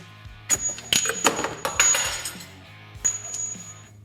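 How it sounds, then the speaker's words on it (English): A bolt being worked out of the upper A-arm on a Honda Talon side-by-side gives a handful of sharp metallic clinks and taps, clustered in the first two seconds with another near the end, close and fairly quiet. "we'll go ahead and pop our bolt out"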